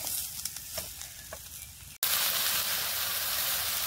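Potatoes being fried and stirred in a pan in a home kitchen, a steady sizzle with a few stirring knocks, which switches abruptly halfway to a louder, denser hiss of frying.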